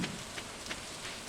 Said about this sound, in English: it's a little bit difficult to make a quality rain sound